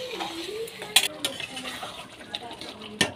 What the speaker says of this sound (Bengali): এই গরম মশলাটা এখন দিয়ে দিলাম।